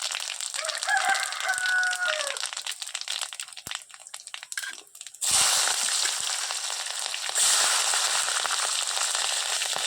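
Loud, steady sizzling of whole spices, fenugreek seeds, cardamom and dried red chillies in hot oil that grows stronger partway through, with a rooster crowing in the background early on.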